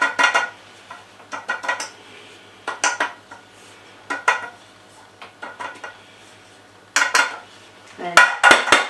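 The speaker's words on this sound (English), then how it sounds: "put a little bit of flour in and then tap the tin so it coats the sides" Metal cake tin being tapped and knocked to spread flour around its sides, a series of close, sharp clanking taps in irregular clusters with short quiet gaps.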